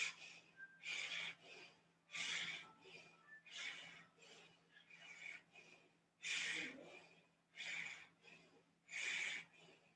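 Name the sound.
breath of fire yoga rapid breathing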